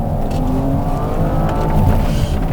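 An Audi RS 5 Sportback's V6 engine revving, a loud continuous throaty drone with rising and falling pitch held close and alone throughout, no voices.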